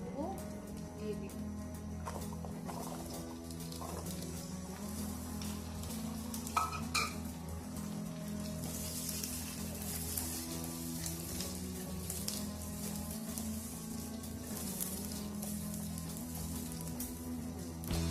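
Garlic cloves frying in hot oil for a garlic pickle, a steady soft sizzle with occasional light stirring clicks, continuing evenly under faint background sounds.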